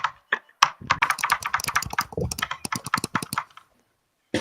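Rapid computer keyboard clicking, close and fairly loud, runs as a quick irregular burst of keystrokes for about three seconds before stopping, with a single click near the end.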